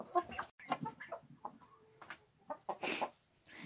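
An adopted hen in a backyard henhouse gives a run of soft, close clucks and short throaty calls, with a brief louder squawk near the end.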